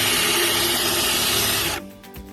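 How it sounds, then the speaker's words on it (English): A power drill bores drainage holes through the bottom of a homemade wooden planter box, giving a loud, steady whir for nearly two seconds before it stops abruptly. "He's now going to drill some holes in the bottom of it so it can drain"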